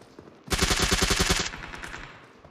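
Rapid automatic AKM rifle fire in a mobile battle royale game, a loud close burst of about a dozen shots in quick succession, then a fading echo tail.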